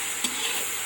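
Potato and okra cooking together in a pan on a home stove, giving a short, steady burst of sizzling and frying with a brief stirring scrape.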